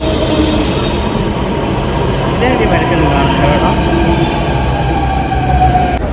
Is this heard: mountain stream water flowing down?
no